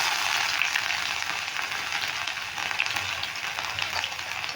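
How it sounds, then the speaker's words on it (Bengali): Cumin seeds and grated ginger hit hot oil in a pan, giving a steady, close sizzle that crackles continuously without pause and no voices. "তেলটা গরম হয়ে গেছে এবার তেলে দিয়ে দিচ্ছি জিরে জিরেটা আমি ফোড়নে দিয়ে দিলাম"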